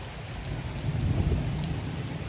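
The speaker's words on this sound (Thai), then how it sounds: "ฝนตกฟ้าร้อง" Heavy rain pours down in a steady hiss with a low rumble of thunder rolling underneath, a short stretch of storm sound with no talk.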